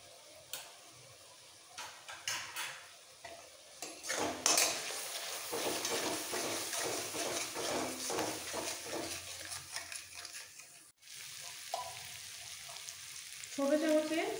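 A paste of garlic, ginger and whole cumin sizzles as it is sautéed in a pan. A spoon scrapes and stirs through it with repeated clinks, and the frying gets louder and busier after the first few seconds.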